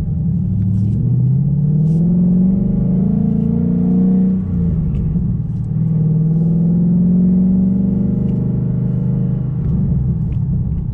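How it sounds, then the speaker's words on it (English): A new Ford Mustang engine rumbles steadily from inside the car while driving, with rising and falling engine tones as it shifts gears, loud and close with no talk. "I'm shifting to third whenever I have like 50 yards left to go to a red light"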